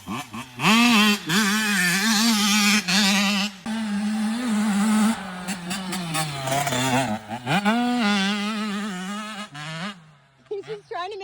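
Yamaha YZ65 pit bike with poor jetting revving hard in a loud, close, wavering two-stroke whine that rises and falls repeatedly, with a brief dip near the end before short blips; people talk around it.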